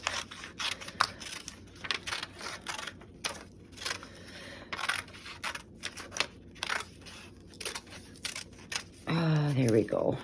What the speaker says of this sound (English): I am going to trim this down a bit